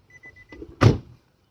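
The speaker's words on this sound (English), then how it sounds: "Let me close the doors." A single solid door slam from a 2009-2014 seventh-generation Nissan Maxima, a short loud thump preceded by a few faint clicks and handling noises, then quiet.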